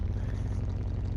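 A car engine in Car Mechanic Simulator 2021, a racing build, runs with a low, steady rumble, close and continuous, without any voices.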